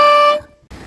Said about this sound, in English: so I installed the air horn